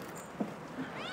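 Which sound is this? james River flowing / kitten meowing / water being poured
kitten meowing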